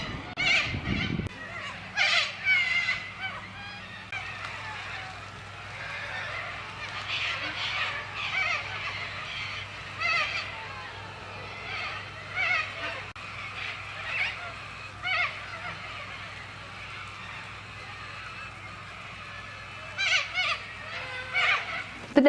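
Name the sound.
birds calling in late afternoon, Australia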